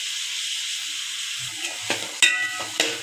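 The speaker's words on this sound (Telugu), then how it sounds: "వెజిటబుల్ అన్నీ వేసి ఒక్కసారి బాగా కలుపుకోవాలి." Carrot, bean and potato pieces fry in oil for a vegetable biryani, giving a steady close sizzle broken by a few scraping, clattering stirs toward the end.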